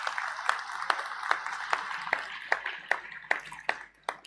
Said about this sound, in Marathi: तुम्ही सगळ्या लोकांनी या दोघांसाठी एक प्रचंड टाळ्यांचा गजर करायला पाहिजे.